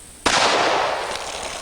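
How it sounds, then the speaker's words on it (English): A standard lead-bullet .45 Colt round fired at a water bottle outdoors: one sharp, loud gunshot crack with a long, slowly fading rumbling tail, no talk. "We've got a standard old lead 45 Colt load that's been in use just forever."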